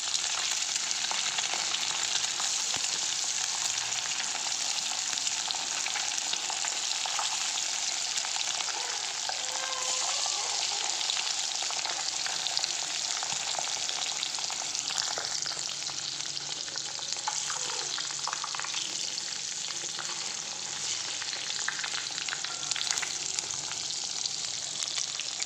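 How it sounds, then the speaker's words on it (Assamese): Eggs fry in a pan during home cooking, giving a steady, dense sizzle and crackle that runs unbroken for the whole stretch, close and even, with no talking. "ডিমখিনি এতিয়া ফ্ৰাই কৰি ল'ম"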